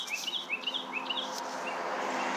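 Small birds chirp outdoors in quick, high repeated tweets during the first second or so, close and fairly clear, fading into a quieter background afterward.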